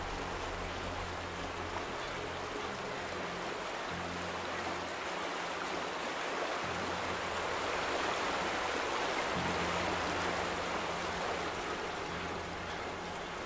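Steady rushing river water in the video game The Vanishing of Ethan Carter, a continuous broadband flow holding even throughout with low hum beneath and no voices.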